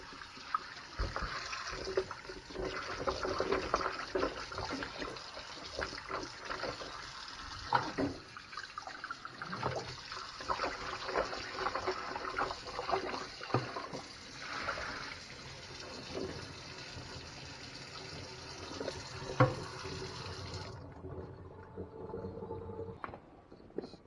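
Carrots are washed under a running kitchen tap, with a steady rush of water and irregular splashes and rubbing close by that stops abruptly near the end.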